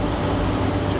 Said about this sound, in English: I'm just spraying a couple of coats of that on the surface